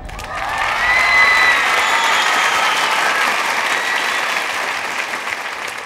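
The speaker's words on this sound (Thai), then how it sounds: "ขอเสียงเชียร์หน่อยนะ" A studio audience on a Thai word-decoding game show breaks into loud, sustained applause that swells quickly and slowly tapers off over several seconds, with light cheering mixed in.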